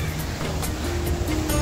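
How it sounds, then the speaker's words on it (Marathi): Sea waves wash around the shoreline by the Ashapuri temple at Edavan, a steady, close, broad surf rush with wind buffeting the microphone and no voices. "आजूबाजूचा परिसर पूर्ण हा समुद्राने भरलेला आहे"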